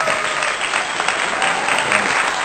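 Dense, steady applause sound effect: many hands clapping loudly and continuously throughout, with no voices.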